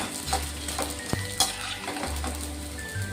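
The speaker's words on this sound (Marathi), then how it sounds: "हे बघा पूर्ण डिंक आपण तळून घेतोय आता" Edible gum (dink) frying in ghee for ladoo, a steady close sizzle with stirring scrapes and a few utensil clinks, no talk.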